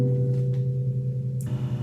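A C and a B sounded together on an instrument, forming a major seventh interval. The two notes ring out as a steady sustained tone, then shift slightly near the end, with no talking.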